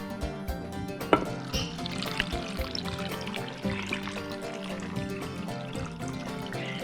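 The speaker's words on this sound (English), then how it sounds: "so then we're gonna pour our brine into our jar." Salt brine poured into a jar packed with vegetables for fermenting, a steady trickling pour with small splashes and gurgles running for several seconds, close and fairly quiet.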